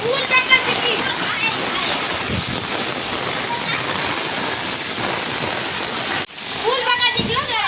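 Heavy, continuous rush of rain and splashing floodwater in Porbandar, loud and close, with a brief cut near the end before the downpour resumes.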